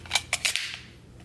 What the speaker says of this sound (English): Let's see what it looks like with one of these 20-round mags in it.